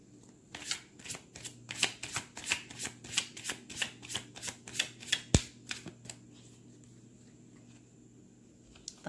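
Tarot cards are shuffled in a quick series of about fifteen crisp riffling bursts, close and clear, followed by quiet with a single tap later.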